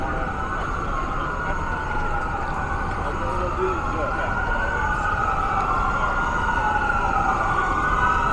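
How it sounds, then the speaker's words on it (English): Emergency vehicle sirens wail continuously on West Georgia Street in downtown Vancouver, several overlapping rising and falling tones, loud and steady above street traffic rumble. "Is it going to be a fire truck? Is it going to be an ambulance?"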